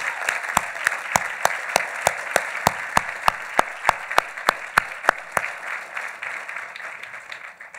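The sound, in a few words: audience applause at a graduation ceremony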